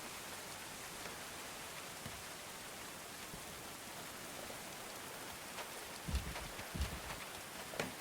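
Steady rain falls as a soft, even hiss throughout, with a few faint drips and light taps near the end.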